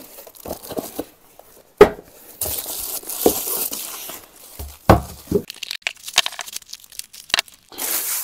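An Einhell VARRITO cordless Power X-Change multi-tool is unpacked from its box: close, irregular bursts of cardboard and plastic tearing, crinkling and crunching, with short pauses between handfuls and no talking.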